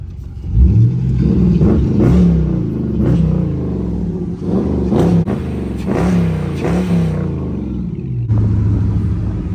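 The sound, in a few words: Dodge Charger R/T engine revving, heard from inside the car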